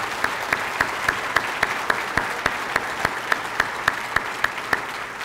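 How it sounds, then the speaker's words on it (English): Steady audience applause fills the hall at an Arlington school district's state-of-the-district event, a dense wash of clapping with sharper individual claps popping out rhythmically, moderately loud and continuous. "Now let's give them all a really big applause."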